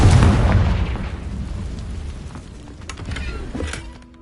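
A fiery Confringo spell blast in Hogwarts Legacy erupts with a loud boom at the start, then decays into crackling rumble and scattered pops over a few seconds, with no talking.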